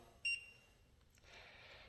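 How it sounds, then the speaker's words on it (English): A Pecron E3600LFP power station gives one short, high electronic beep early on, clear but fairly quiet in a hushed room. "We've got a flashing red light and a beep."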